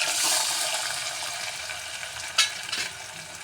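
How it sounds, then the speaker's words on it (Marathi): Soaked sabudana (sago) fries in oil with curry leaves in a kadai for a fasting misal. A close hiss carries a couple of sharper stirring scrapes near the end. "मग तो चांगल्या प्रकारे असं ढवळून घेऊया म्हणजे थोडा शिजला पाहिजे"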